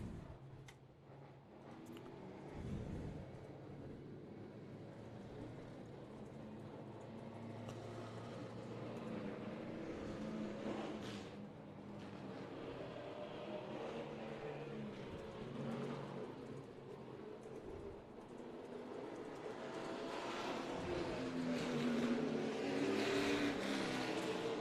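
Race car engines firing up at a live auto racing event with youth and veteran drivers, a dense, steady roar of several motors that builds louder toward the end, with occasional revs and no talk over it.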